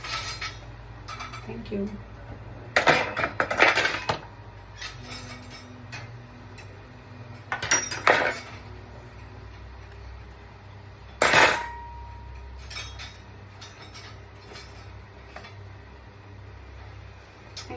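Metal spoons clinking and clattering together as they are handed over for packing, a few bright bursts of rattling spaced apart, with a brief spoken thanks between them.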